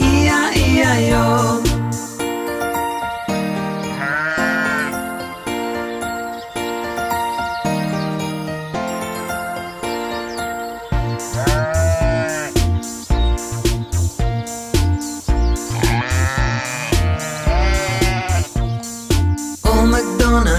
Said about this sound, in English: And on his farm he had a sheep, E-I-E-I-O.